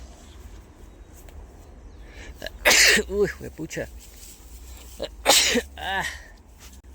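A person sneezes loudly twice, several seconds apart, in an outdoor natural setting, each burst followed by short exclamations in Spanish.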